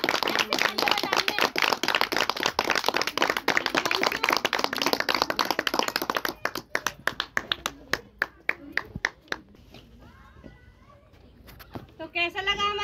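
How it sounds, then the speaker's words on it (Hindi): A meeting audience claps loudly and densely for several seconds, then the applause thins to scattered separate claps, with voices joining toward the end. "एक बार जोरदार तालियां अपने लिए"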